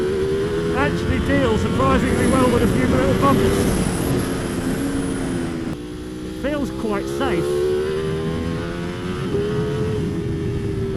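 A Ducati Panigale V4 SP2 superbike, around 230 horsepower, at full throttle on a track, its engine a loud rising howl through the gears with rushing wind, briefly easing mid-way, while the rider talks over it.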